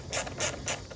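Fairing bolts tightened down on a 2020 Harley-Davidson Road Glide Special, giving three quick, close ratcheting bursts in a steady rhythm, each a short mechanical clicking run with no voices.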